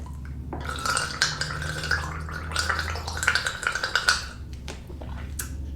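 A voice imitating a gargle, showing incorrect vocal placement during a singing lesson: a wet, bubbling, throaty rattle held for several seconds, close and loud.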